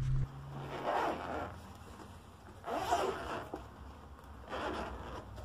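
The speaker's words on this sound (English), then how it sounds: "So I've just gone out of shot there while I take the cellophane off." Cellophane wrapping being pulled off a new GoPro box, coming in three separate bursts of crinkly rustling and scraping, close and fairly quiet, with a short low hum near the start.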